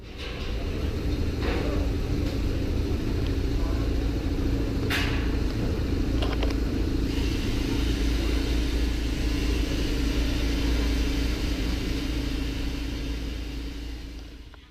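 A car driving along the M3 motorway out of Southampton makes a steady engine drone and low road rumble for the whole stretch, with a few faint clicks inside the cabin.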